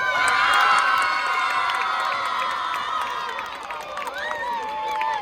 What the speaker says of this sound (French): Je vous demande d'applaudir très très fort la première dame